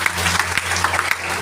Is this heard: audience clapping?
yes